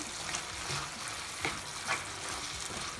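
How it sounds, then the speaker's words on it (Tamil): Pepper chicken with curry leaves is sautéed in a pan, giving a continuous, fairly quiet hiss of frying with a couple of brief stirring scrapes. "இதை கொஞ்சம் நல்லா மிக்ஸ் பண்ணி விட்டுட்டு இன்னும் ஒரு ரெண்டுலேருந்து மூணு நிமிஷம் வரைக்கும் இதை வதக்கிக்கலாம்"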